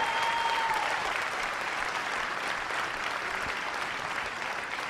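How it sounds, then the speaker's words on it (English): Audience applause at a film festival awards show, a steady, full crowd clapping that holds at an even level throughout with no talking over it. "Big round of applause."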